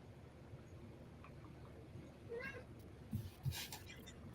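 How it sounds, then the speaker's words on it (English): A house cat meows faintly in the background during a tabletop role-playing game session, two or three short cries late in the moment over a low room murmur. "Cue the cat in the background."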